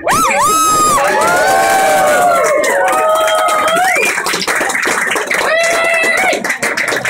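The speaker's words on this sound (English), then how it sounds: "If you could please give them a round of applause" A crowd at a Los Angeles rum bar community event claps, cheers and whoops loudly, with shrill high-pitched shouts and whistles rising over dense applause that stays strong throughout.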